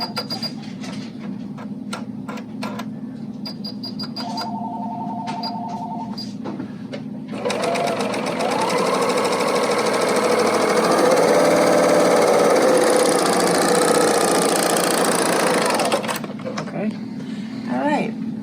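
Babylock L890 serger sewing fabric at a steady fast clatter for several seconds, preceded by quieter handling and beeps, close, with someone talking intermittently.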